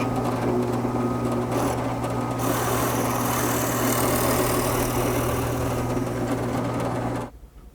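A wood lathe spins a crotch wood platter, whirring steadily with a constant motor hum and high whine, then cuts off abruptly near the end.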